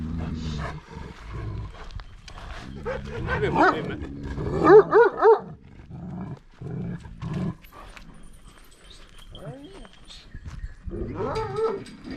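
Several large Yörük shepherd dogs of Denizli bark in a few sharp, close bursts, with loose yard noise and shuffling around them and quieter stretches between.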